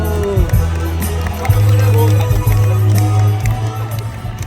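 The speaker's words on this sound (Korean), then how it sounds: "큰 박수 부탁드립니다." A large outdoor crowd at a national rally protesting Fukushima nuclear wastewater ocean dumping, cheering and calling out as an opposition party leader is welcomed, over a steady low droning tone, loud and continuous.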